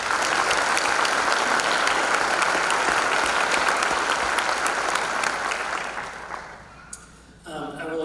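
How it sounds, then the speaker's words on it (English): Loud, dense applause from a concert audience at a high school spring band concert, sustained for several seconds before fading out, followed by a brief moment of quieter room sound. "Let's give Alex a round of applause"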